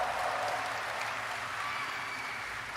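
A large audience applauds at Gamescom Opening Night Live 2023 in Germany, a dense, steady wash of clapping that fills the room without a break.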